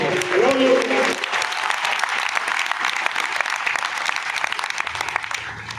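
An audience at a block-level school event in Sardarshahar breaks into sustained, dense applause that carries on for several seconds, briefly overlapping a voice at the start and near the end.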